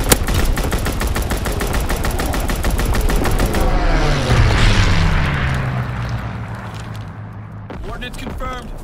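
Aircraft strafing run in Call of Duty: WWII, loud rapid machine-gun fire in a fast even rhythm for several seconds, then a roaring pass and rumbling boom that fades, with voices over the top.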